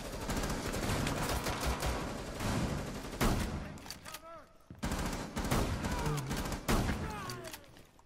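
Rainbow Six gameplay with dense, loud gunfire in rapid volleys, a brief lull near the middle, then more bursts, with faint voices mixed in.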